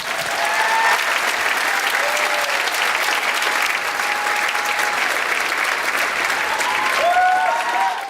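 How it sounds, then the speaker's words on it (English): Steady, dense applause from an audience fills the whole stretch at an even, loud level, with a few faint whistle-like tones rising over the clapping near the end. "And the crowd goes wild."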